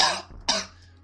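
A person with a cold coughs twice in quick succession, close and fairly loud, with nobody talking.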